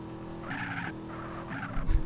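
A car in GTA San Andreas revving and pulling away with squealing tyres, a sustained engine drone carrying two sharp skid bursts, close and moderately loud, ending in a thump.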